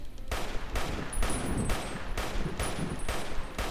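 Garand rifle gunfire in the video game Fallout: New Vegas, with a rapid series of loud, evenly spaced shots, each with a sharp crack and a booming tail that overlap into a continuous volley.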